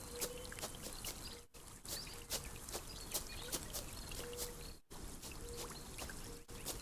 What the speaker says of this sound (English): go behind this waterfall for a secret